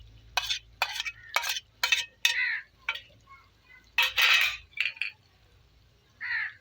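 A spoon stirs tomatoes into red masala in a cooking pan, with a series of short scraping, squelching strokes and light clinks, about ten bursts in an uneven rhythm, close and fairly quiet, with no one talking.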